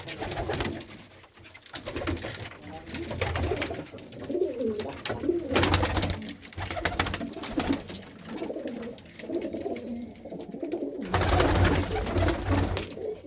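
A group of Malwai pigeons keeps up a steady, low, rolling cooing in a village loft, close and continuous over many seconds, with occasional louder bursts of rustle or wing noise.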